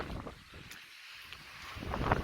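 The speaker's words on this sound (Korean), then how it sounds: "섬이다 보니까는 사방으로 저 바람이 불고 있습니다" Wind blowing all around by the sea on an island, heard as a rough, gusty rush buffeting the microphone, moderately loud, easing briefly and then rising again.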